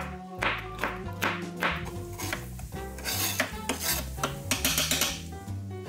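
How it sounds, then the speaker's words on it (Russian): Peeled garlic sliced with a knife on a board in a home kitchen, giving repeated close tapping chops over steady background music. "И тоже произвольно его нарезаем."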